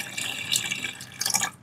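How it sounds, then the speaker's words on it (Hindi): Water pours from a cup into a pan of agar agar and mango mixture, a steady close splashing trickle that swells twice before stopping abruptly. "और इसके साथ ही हम इसमें 3/4 कप पानी ऐड करेंगे"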